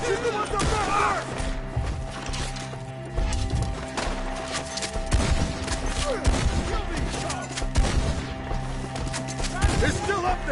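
Red Dead Redemption 2 epilogue shootout: sharp rifle and pistol cracks scattered among galloping hooves, horse whinnies and crashing impacts, with shouted dialogue and a steady game score underneath.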